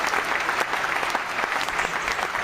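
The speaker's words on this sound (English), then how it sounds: "That was like 10 seconds of applause" A live audience applauds, a dense, steady patter of many hands clapping at once that holds its level throughout without pause.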